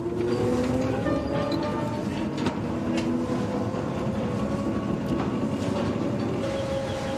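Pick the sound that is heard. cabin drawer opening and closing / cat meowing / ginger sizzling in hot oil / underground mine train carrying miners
underground mine train carrying miners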